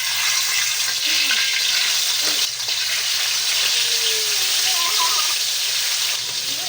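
Fish fries in hot oil, giving a steady, loud sizzle that continues throughout with small crackles and no pauses.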